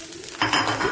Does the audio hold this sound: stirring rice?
yes